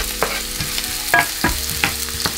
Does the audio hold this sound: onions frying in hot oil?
yes